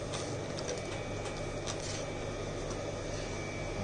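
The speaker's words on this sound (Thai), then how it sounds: "เดี๋ยวผมจะลองเย็บแบบ สัก 4ชั้นเป็น ไง" A SURE SR 390 overlock sewing machine runs steadily, stitching through four layers of thick leather. Its continuous mechanical whirr stays even and fairly quiet throughout, with no talking.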